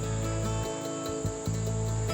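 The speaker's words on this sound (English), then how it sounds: "you'll hear the sound of cicadas." Cicadas chirp beside the Tweed River in a continuous, even, high-pitched drone with faint pulsing, moderately loud and without speech.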